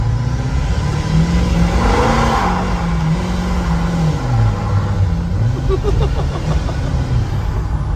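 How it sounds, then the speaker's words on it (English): Revving engine of a 6.4 Powerstroke diesel pickup truck spinning its tires, a loud continuous drone that rises and falls in pitch, close and steady throughout, with faint voices underneath. "Oh, it just wants to spin the tires."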